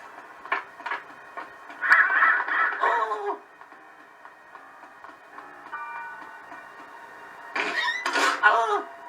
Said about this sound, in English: See the crows.